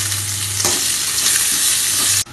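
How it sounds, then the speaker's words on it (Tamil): Onions and green chillies sauté in a hot pan with curry leaves and roasted chana dal, giving a loud, steady sizzle with a spoon stirring and scraping now and then, no voices. "இப்போ வெங்காயமும் பச்சை மிளகாயும் போட்டு இதிலே வதக்குறோம்."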